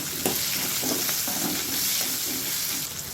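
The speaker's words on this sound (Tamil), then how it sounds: "வெங்காயம் இப்போ நல்லா வதங்கிடுச்சு" Onions frying in a pan with steady sizzling and repeated scraping stir strokes, close and moderately quiet, no voices.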